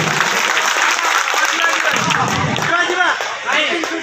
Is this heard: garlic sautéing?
no